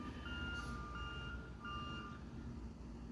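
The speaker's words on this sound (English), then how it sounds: "they're doing the bridge construction by the freeway" Faint repeating reversing beeps from a truck at a bridge construction site beside a freeway, three evenly spaced tones over a low rumble of distant traffic and machinery.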